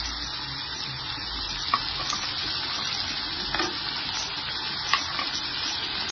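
Onion, ginger, garlic and dried red chillies fry in a pan with a dense, steady sizzle and crackle, close and fairly loud, broken by a few light stirring taps.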